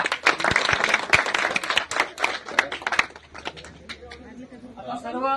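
Loud clapping from a crowd at a gathering breaks out close by, then thins out and fades as voices and chatter take over toward the end.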